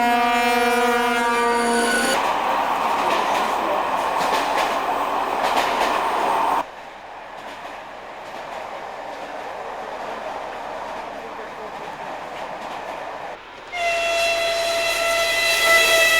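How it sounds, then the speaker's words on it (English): A Soviet-built train rolls through the Syrian desert, sounding a loud tonal horn blast before giving way to steady rumbling running noise, then a second horn blast near the end. "The train crosses the great river in the desert, the Euphrates."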